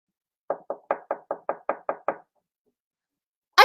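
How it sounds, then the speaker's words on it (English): Knocking on a table: nine quick, evenly spaced knocks close by, followed by a pause and the start of another sound at the end. "Place your head on the table that you're watching this on and give it a knock."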